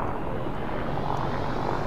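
A spaceship in the game Elite Dangerous throttles up, giving a steady, loud, broadband engine roar that holds even and unbroken throughout.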